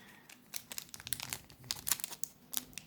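Close, quiet crinkling and tearing of plastic as a Pokémon card sleeve package is worked open, with irregular sharp rustles and snaps coming in bursts.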